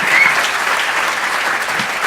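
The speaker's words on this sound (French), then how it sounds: "un tonnerre d'applaudissements pour vous, parce que vous avez été extraordinaire" Continuous audience applause from a crowd at a talk, dense and even clapping filling the whole moment without speech.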